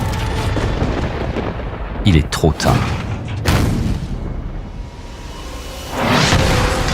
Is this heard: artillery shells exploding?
yes